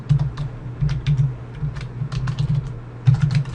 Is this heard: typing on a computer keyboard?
yes